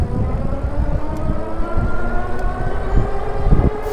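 A Rattan Pinus 750 watt electric bike pulls away from a stop, its motor whine rising steadily under rushing wind and road noise, loud and close.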